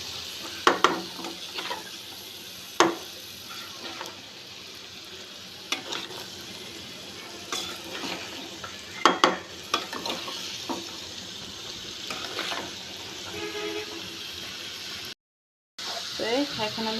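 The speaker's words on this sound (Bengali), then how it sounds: "পেঁপেগুলো দেওয়ার পর সেভাবে ভালো করে নেড়ে নিতে হবে।" Papaya pieces being stirred and fried in a pan, with steady sizzling and intermittent spatula scrapes and taps against the metal, a brief dropout near the end; no talking.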